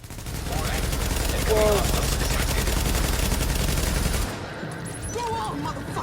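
Sustained automatic gunfire from The Division 2, a dense rapid rattle of shots, loud and close, with a short exclaimed voice over it before the barrage thins out near the end.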